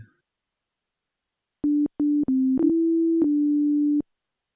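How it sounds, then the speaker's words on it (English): A pure, steady sine tone from an initialized DX7 patch plays in several short bursts with brief gaps, then holds for over a second before stopping; clean and moderately loud. "So you can hear it's initialized to a sine wave."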